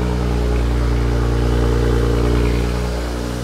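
A single-turbo N54 engine in a BMW 135i runs loud and close at a sustained high idle. It has a steady, gruff, throbbing drone that barely changes over a few seconds.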